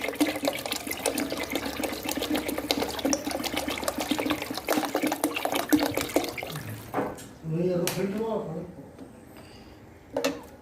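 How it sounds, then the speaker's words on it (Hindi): A liter of water poured into a pot of moong and masoor dal, a steady splashing pour lasting several seconds before it stops and a person talks. "एक लीटर पानी शामिल करेंगे।"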